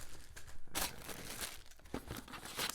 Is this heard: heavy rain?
no